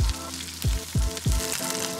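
Potato gnocchi sizzle and fry in a hot cast iron pan, with a steady loud crackle broken by several sharp bursts as the pieces are tossed or stirred.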